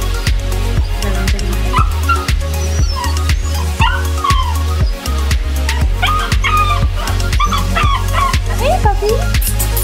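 A young Old English Sheepdog puppy barks and yips in rapid, repeated bursts with some whimpering, close and loud over a busy background.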